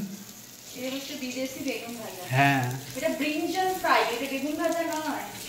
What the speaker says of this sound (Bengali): এটা ব্রিঞ্জেল ফ্রাই অন হট তাওয়া